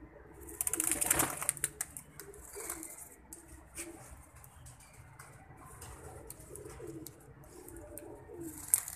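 Soft coos from Sialkoti-breed pigeons murmur throughout, mixed with faint rustling and a flutter of wings early on, in a quiet outdoor setting.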